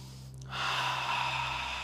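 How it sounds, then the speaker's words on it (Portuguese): A gathered group draws breath together on a guided cue, producing one soft, sustained rush of air that swells about halfway through and holds. Faint and close, with no talking. "Fecha os olhos. Respira bem fundo."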